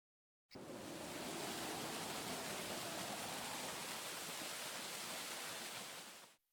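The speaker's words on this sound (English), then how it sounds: "Multnomah Falls isn't just Oregon's tallest waterfall, it's one of the few in America that never stops flowing." Multnomah Falls, Oregon's tallest waterfall, pours in a steady, dense roar of falling water that holds constant from start to finish.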